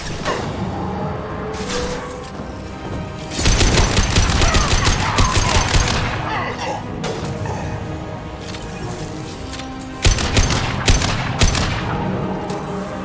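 Dense bursts of rapid gunfire from the sci-fi shooter game Mass Effect 2, with cracks and crashes in overlapping volleys that swell and ease across the stretch, loud and continuous with no talk.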